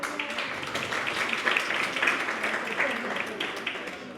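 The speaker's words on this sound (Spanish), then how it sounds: "Un fuerte aplauso para este panel" Applause from an audience welcoming a panel at a carbon forum in Peru, steady clapping spread through the hall with a voice talking over it.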